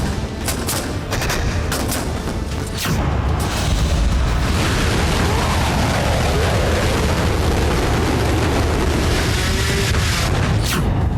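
Tank cannon fire during a high-altitude mountain exercise near the LAC, heard as a steady, loud rumbling barrage with several sharp booming reports early on, then continuous heavy blast noise throughout.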